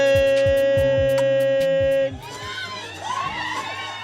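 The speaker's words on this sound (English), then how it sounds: "put your hands together right now. Start clapping it up right now." A comedy show audience cheers and whoops loudly as a musical intro cuts off halfway through, and the crowd noise carries on as a broad, lively roar.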